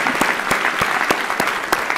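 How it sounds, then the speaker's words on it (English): Applause at the Council of the District of Columbia swearing-in ceremony, a sharp burst of many hands clapping in an uneven, crackling rhythm, fairly loud and close. "So give them a round of applause."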